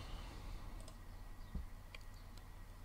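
A few faint, sharp computer mouse clicks sound over a quiet background hum, spaced irregularly with no talk.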